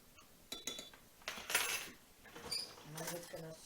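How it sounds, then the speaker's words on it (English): A spoon stirring salt into warm water in a container, light clinks and scraping taps against the sides in an uneven rhythm, close but quiet. "I'm just going to stir it to dissolve the salt"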